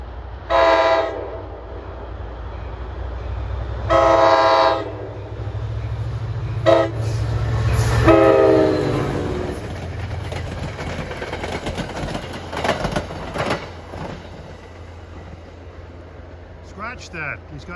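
An NJ Transit diesel train led by a GP40FH-2 locomotive sounds its horn in long blasts, then rumbles past nearby with a steady roar, rail clatter and rattling cars fading out, while a person talks over the start.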